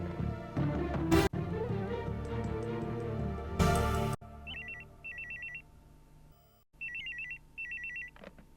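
An electronic telephone ringtone rises after a burst of background music, sounding as repeated short warbling tone bursts in groups with brief pauses between them, with no voices.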